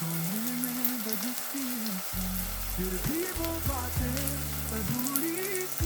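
Ginger garlic paste and pepper powder frying in a pan for mutton sukka, giving a steady close crackling sizzle under continuous background music with low sustained tones.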